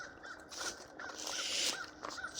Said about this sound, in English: That bird is annoying.